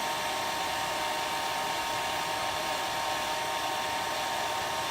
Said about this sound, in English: You're gonna see the tip of the hair dryer.